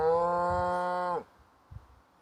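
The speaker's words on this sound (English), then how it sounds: "I think he's calling the rest of his cows." A bull in a Peak District field lets out one loud, sustained moo lasting about a second, calling to its cows, then falls quiet apart from faint outdoor rustle.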